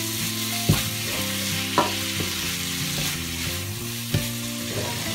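Prawns masala frying in a tawa pan, a steady close sizzle with a few distinct scraping clinks as the spatula stirs and turns the prawns.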